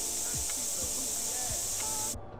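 Spray paint hisses continuously from a can in GTA San Andreas, a steady bright airy spray lasting about two seconds before cutting off abruptly, with faint low knocks beneath.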